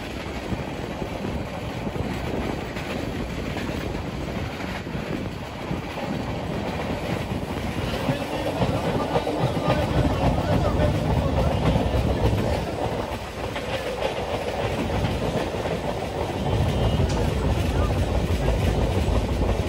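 The 12858 Tamralipta Express runs from Digha toward Howrah, heard from inside a 2S chair car: a loud, steady rumble of rolling wheels with rhythmic rail clatter throughout, and faint voices in the coach.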